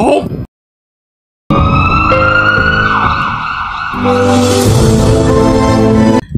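A loud wailing ambulance siren rises and falls continuously, close by, after a brief silence at the start, with traffic noise underneath.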